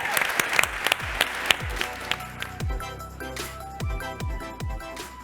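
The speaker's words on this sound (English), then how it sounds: "can we start off by giving Elio, our first presenter, a massive round of applause" Audience applause for a startup presenter at an accelerator demo day in San Francisco, a steady loud round of clapping with sharp individual claps standing out near the start, then thinning and fading toward the end.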